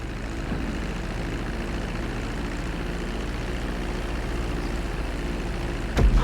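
A fixed-wing airplane in Grand Theft Auto V taxis on a runway, its engine giving a steady, loud, broadband drone that runs unbroken throughout, with a brief sharp burst right at the end.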